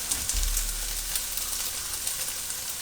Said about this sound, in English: So, starting to see it steam and sizzle.